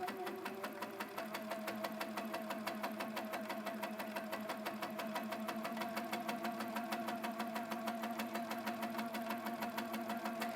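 A Sweet 16 sit-down quilting machine stitches fabric in a fast, even mechanical rhythm, the steady rapid clatter continuing unbroken at moderate volume.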